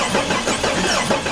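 A Jeep engine cranks over without catching, a steady continuous starter churn that stays loud and close for the whole short stretch, with no speech.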